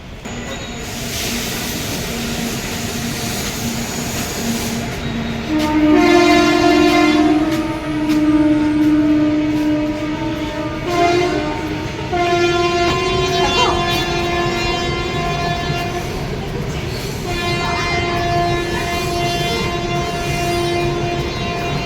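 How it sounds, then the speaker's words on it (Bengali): A train pulls into a station with a loud, continuous rumble and clatter and a sustained horn or whistle tone sounding over it, with people talking nearby. "চলো ট্রেনটা ঢুকছে"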